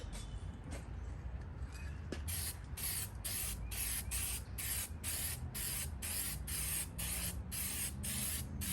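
A heavy coat of texture coating is sprayed onto a 1999 Escalade sail panel, a close, continuous hiss with rapid rhythmic pulsing through most of the clip.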